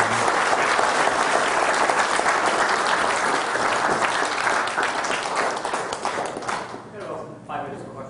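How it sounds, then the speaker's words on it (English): Conference audience at a growth hacks talk applauding loudly and steadily for several seconds, the clapping thinning out near the end as it fades. "Now would be a great time for applause."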